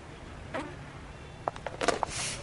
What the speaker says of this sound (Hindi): अरे मच्छर हम लोग कैसे भागेंगे यार?